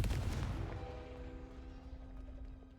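A Confringo fire spell blast in the video game Hogwarts Legacy, one loud booming impact that rolls off into a fading rumble and ringing decay.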